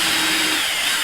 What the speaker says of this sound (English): So I'm just going to pre-drill this on